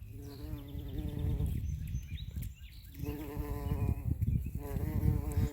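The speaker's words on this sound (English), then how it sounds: "Oh, look, there's a bumblebee." A bumblebee buzzes close by in a spring garden among early flowers, a loud steady drone that dips briefly before swelling again.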